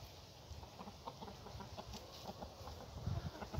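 Chickens clucking on a cold morning at a small farm, faint scattered clucks over a steady hiss of background noise.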